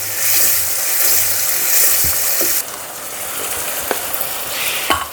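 Hot tempering pours into khichdi gravy with a loud, dense sizzle that drops abruptly to a softer bubbling fry, broken by a few light clinks, heard up close with no talking.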